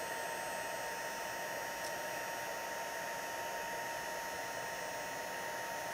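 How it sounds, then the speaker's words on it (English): A handheld heat embossing tool blows a steady, loud whooshing hiss as it melts embossing powder on a Stampin' Up! mermaid card, a continuous even roar with no talking. "once the heat tool heats up, can you see how the color or the powder is melting and it's becoming shiny?"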